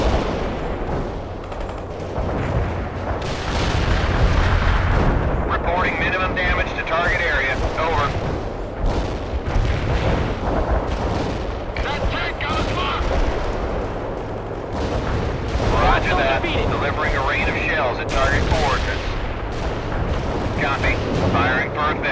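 Artillery shells bursting in World in Conflict, a dense, continuous barrage of booms and crackling gunfire with no gaps, loud and close, rolling on for the whole stretch.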